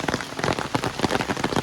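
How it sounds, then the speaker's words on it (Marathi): Steady rain patters on surfaces in the Konkan countryside, a dense, even patter of drops close by with no voices. "पाऊस पडतोय."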